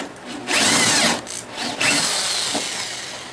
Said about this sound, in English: Then I'll drill halfway through here.